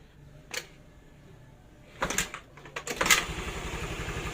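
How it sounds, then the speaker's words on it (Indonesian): Honda Vario 110 scooter being kick-started with the battery disconnected: a few sharp mechanical clanks and thumps from the kick lever, then the small engine catching into a steady low idle. "Kita kick starter."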